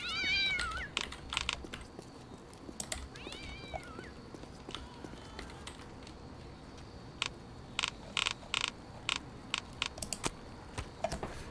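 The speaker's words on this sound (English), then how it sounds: "Because we have so many cats here, and we have a lot of cats here" Several cats meow in the Postal 2 video game, with a few rising, wavering cries early on, over a busy game background and a run of sharp clicking taps later.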